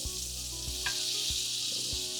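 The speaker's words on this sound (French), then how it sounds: "Le beurre est en train de fondre." Butter melts and sizzles in a pan, a steady close frying hiss with soft knocks of stirring at regular intervals, no talk over it.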